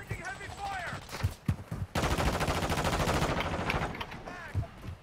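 M4 rifle fire in Call of Duty: Modern Warfare II, a sustained rapid automatic burst lasting about two seconds, with a few single shots before and after it and speech in between.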